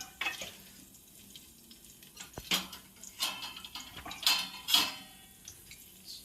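Biryani ingredients stirred in hot ghee in a pot, with intermittent metallic clanks and scrapes of a ladle over a low sizzle, close and uneven.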